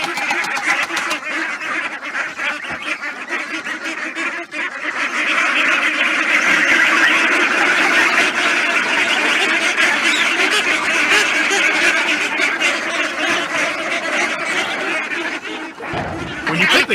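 A crowd of ducks and geese quacks and honks continuously up close, a dense, busy chatter of birds that grows louder midway.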